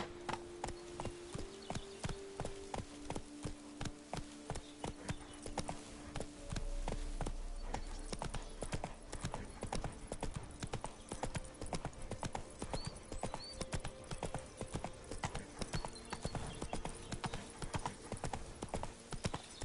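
Roach, the horse in The Witcher 3, trots with brisk, regular clip-clop hoofbeats that carry on steadily, clear and up close, with a short whinny partway through.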